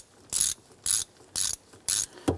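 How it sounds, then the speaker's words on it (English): A ratchet with a 15 mm socket tightens a lock nut on a 1997-2006 Jeep Wrangler shifter, giving four crisp clicking bursts in an even rhythm, close and clear, followed by a short clunk, no talk. "we're using a 15 millimeter socket"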